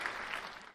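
A brief burst of dense clapping, steady and moderately loud for under a second, with no voices over it.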